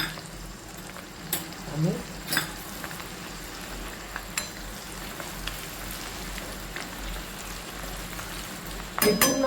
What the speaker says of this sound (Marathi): आणि लाल तिखट हे तेलात टाकून घ्यायचं छान.